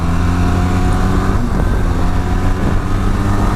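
A Benelli TRK502 motorcycle on a test ride, its engine humming steadily under constant wind noise, with a slight shift in pitch midway.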